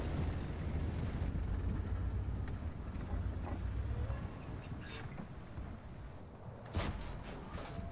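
In World of Tanks, a T-34-85M battle erupts with a loud roaring blast that fades into lower rumbling, then a sharp metallic impact as a shell ricochets off armour.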